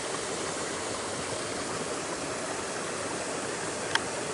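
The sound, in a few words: creek water flowing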